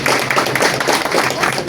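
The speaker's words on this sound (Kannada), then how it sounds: "ಒಂದ್ಸಲ ಜೋರಾದ ಚಪ್ಪಾಳೆ ಬರೋಣ" An audience at a cricket media trophy logo launch event claps briefly, a dense patter of hands running steadily throughout.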